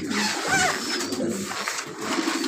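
Tournament pigeons of an army-line strain cooing in a loft, a low steady murmur of coos with a brief brighter call rising midway over constant background noise.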